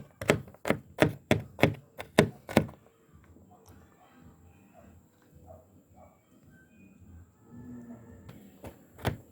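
A kitchen knife chops rapidly through garlic cloves on a cutting board, a fast run of sharp knocks followed by quieter rustling and a few final chops.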